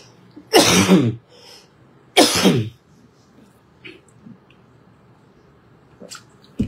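Two loud, sharp coughs close to the microphone, about a second and a half apart, followed by quiet small mouth and throat noises.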